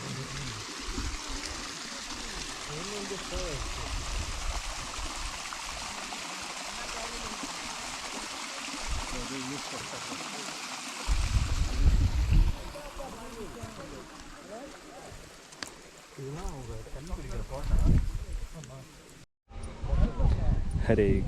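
Water running over a series of small check dams along a stream on a Sabarimala forest trail in Kerala, a continuous close rushing wash with low thuds and shifts in level, people talking throughout.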